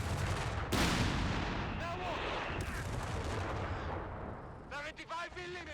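Rapid gunfire bursts and heavy weapon fire from Company of Heroes 3, a World War II strategy game, loud and dense with overlapping shots, then the volleys thin out near the end as a voice speaks over them.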